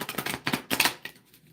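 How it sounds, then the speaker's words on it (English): Tarot cards being shuffled by hand, a run of crisp papery riffles and slaps in quick bursts, close and fairly loud, trailing off into soft rustles. "Let me shuffle one more time."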